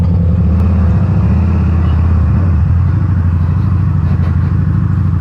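Harley-Davidson V-Rod Muscle 10th Anniversary 2012 motorcycle engine rumbling steadily and loudly throughout, a deep continuous throb close by with no voices.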